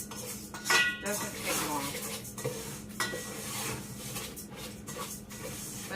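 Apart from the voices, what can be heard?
toasting basmati rice with spices and oil in a pot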